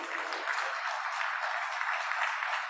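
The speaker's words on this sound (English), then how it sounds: "Big round of applause." Sustained applause from an audience at the Alameda State of the City, honoring the police and fire departments; steady, dense clapping throughout with no pauses.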